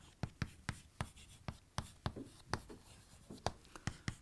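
Pen strokes scratching across paper while a journal entry for a financial accounting ledger is written by hand, a quick run of short, crisp taps and scrapes close by, with no talk.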